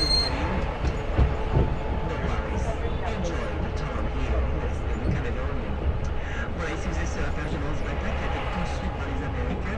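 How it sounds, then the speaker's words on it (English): Small Bumblebee tourist train rolling along in Noumea, a steady rumble and rattle of wheels with occasional clicks, continuous and moderately close for the whole stretch. "So off we go on the train,"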